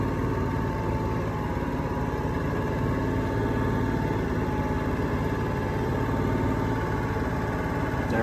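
Powerhouse 7500i inverter generator engine running steadily at a reduced idle, a continuous close, even drone with a low mechanical hum and no voices.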